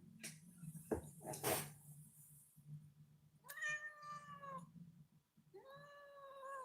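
A black cat meowing indoors, two drawn-out meows in the later half, clear and close, preceded by some rustling and clattering handling noises, with no speech over them.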